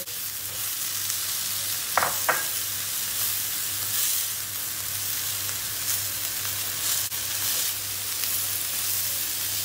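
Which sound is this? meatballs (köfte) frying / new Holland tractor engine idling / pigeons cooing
meatballs (köfte) frying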